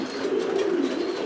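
Pigeons at a breeding farm give a soft, continuous throaty cooing, close by and steady, with no other sounds.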